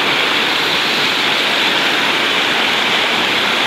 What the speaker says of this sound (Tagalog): grabe lakas ang agos dito guys